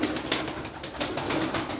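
Pigeons kept as Turkish performing birds coo and shuffle in a loft, a dense steady rustle of wings and soft calls with no voices.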